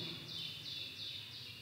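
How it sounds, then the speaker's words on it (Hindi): A goldfinch chirps in the background near a laburnum tree, a faint repeated high call at regular intervals over steady low ambient noise. "अभी आप शायद आवाज़ सुन रहे होंगे पीछे चिड़िया की"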